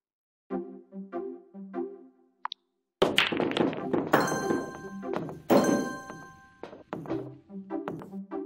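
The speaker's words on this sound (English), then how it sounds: "You start with the break shot." Billiards break shot in the video game Clubhouse Games: 51 Worldwide Classics, opening with short electronic tones, then sharp clacks as balls scatter and collide, followed by rolling knocks and chimes.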